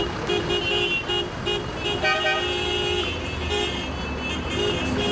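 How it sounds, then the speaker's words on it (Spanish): Car horns honking from many vehicles during a drivers' protest on a highway, with repeated overlapping toots and steady traffic and engine noise behind them, loud and continuous. "Bocinazos y protestas que se registraron en Américo Vespucio, Quilicura, San Bernardo y la Ruta 68"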